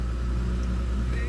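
A 2017 Lexus RC350 F-Sport's 3.5-liter V6 runs steadily just after starting, a low, even engine hum heard close for a brief moment without talk.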